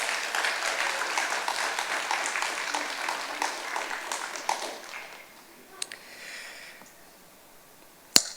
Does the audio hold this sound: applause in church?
yes